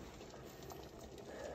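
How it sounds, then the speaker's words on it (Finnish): Salted water for spaghetti coming to a full rolling boil in a pot, a continuous faint bubbling and churning heard up close with no voices. "niin se tarvii kumminkin, että siinä on kunnon kiehuminen"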